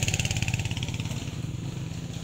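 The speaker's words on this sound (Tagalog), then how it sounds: "lalaki ng mga motor" Large motorcycles ride along a rough, muddy mountain road on Mount Balagbag. A buzzing engine drones steadily and fades slightly toward the end, and no one speaks.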